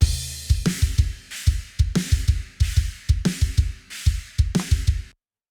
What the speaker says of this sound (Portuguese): esse aqui é o som da batera